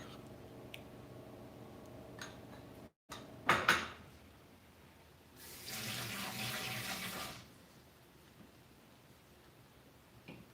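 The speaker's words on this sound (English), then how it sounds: "Okay, I think I'm ready for some water here." Kitchen tap water runs into a sink for a couple of seconds as a steady hiss, after a few clinks of dishes and cutlery, fairly faint and heard without talk.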